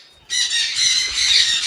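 Birds at a large bird nursery in Namangan, a loud continuous shrill squawking chorus of many birds starting abruptly and holding steady, close and dense.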